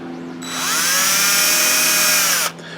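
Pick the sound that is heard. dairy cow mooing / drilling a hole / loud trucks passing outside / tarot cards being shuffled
drilling a hole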